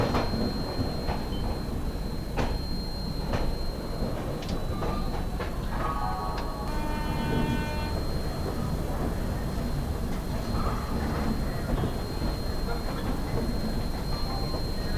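The Saraighat Express (12345, Howrah to Guwahati) pulls out of Howrah station with a continuous rumble and rhythmic clacking of wheels over rail joints, plus faint tonal squeals midway, close and steady throughout.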